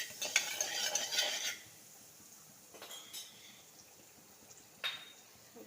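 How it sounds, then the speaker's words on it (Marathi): Spoon stirring salt into spicy misal curry in a metal pot: a couple of seconds of scraping and clinking, then quieter pauses broken by brief clinks. "आता हे आपल्याला ते मिक्स करून घ्यायचं आहे."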